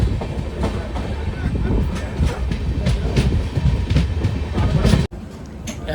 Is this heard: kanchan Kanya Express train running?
yes